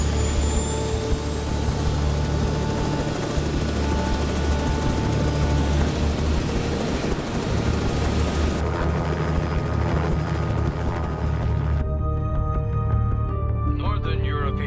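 A helicopter taking off, its loud steady rotor and engine roar continuing without a break, with the sound thinning and cutting away near the end.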